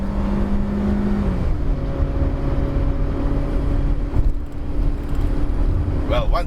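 A 2019 Proton Saga with a four-speed automatic drives briskly along winding B roads, its engine and tyre drone a loud, constant hum inside the cabin with slight shifts in pitch.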